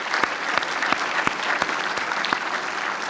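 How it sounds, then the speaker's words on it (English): An audience at a symposium closing session gives a round of applause, dense, even clapping with a few sharper nearby claps standing out, sustained throughout without speech. "I'd appreciate if everybody give them a round of applause for all their efforts."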